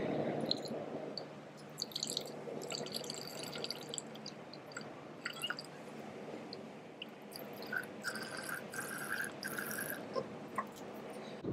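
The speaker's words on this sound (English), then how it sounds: "Okay, let's pour it out in a wine glass, apparently." Milo chocolate malt drink poured from a carton into a wine glass, a soft close trickle and dribbling liquid with faint splashes, quiet and steady with no speech.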